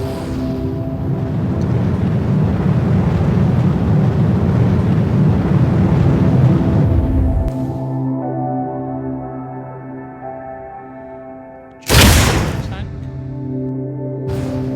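Rocket engine in the game Simple Rockets 2 roaring up as a loud, broad rumble for several seconds, then cutting to a quieter steady hum with a sharp burst near the end.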